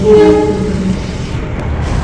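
A train horn sounds at Cirebon Prujakan railway station in Indonesia, a loud sustained blast at the start fading after about a second, followed by rumbling rail noise and station ambience.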